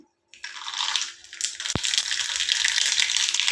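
Mustard seeds spluttering in hot oil and ghee for an oats pongal tempering: a sudden burst of steady, crackling sizzle, with one sharp pop partway through.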